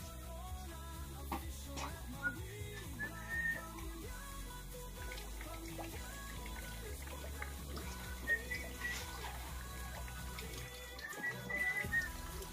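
Dishes and pots are washed outdoors under a weak running tap, with a soft trickle of water and scattered clinks and clatters of utensils and crockery, fairly quiet and close, with occasional faint voices in the background.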